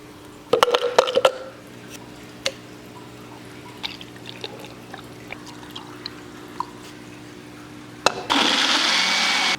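Blender whirring through a smoothie in a home kitchen, starting abruptly and running loud and steady to the end, after a stretch of light kitchen clinks, taps and a faint hum.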